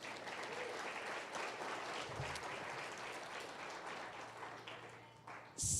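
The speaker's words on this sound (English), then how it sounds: "Give yourselves a round of applause." At an awards ceremony, a large audience claps in a steady, sustained round of applause that holds for several seconds and then thins out, ending with a brief louder sound.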